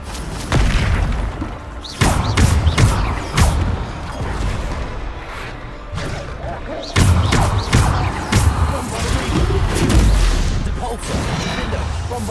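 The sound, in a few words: Bombarda spell explosions in a Harry Potter video game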